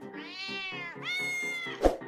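A Minecraft kitten meows in a rising, drawn-out tone with a rhythmic purring pulse underneath, then a second longer meow and a short thump at the end.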